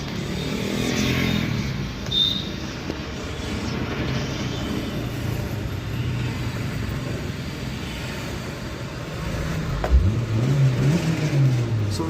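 A Maruti Suzuki Ritz hatchback's engine turns over with a low rumble, then settles into a steady idle; a rising rev lands near the end, close and clear with no talking over it.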